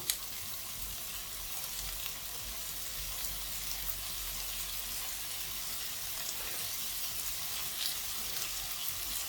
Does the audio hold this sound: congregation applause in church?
no